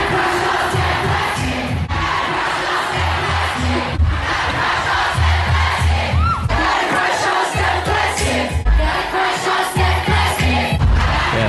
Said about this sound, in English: a bunch of the cities that she played in with the crowd screaming your name